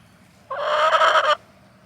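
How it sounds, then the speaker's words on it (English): A Dominicker chicken at a historic park gives one loud, close, harsh squawking cackle lasting under a second, with quiet before and after. "And this is a Dominicker chicken."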